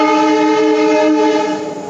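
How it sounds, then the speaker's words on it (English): A train near Goa airport sounds a loud, sustained horn close by, one steady harmonic blast holding for nearly two seconds before cutting off abruptly. "there's also a train passing nearby."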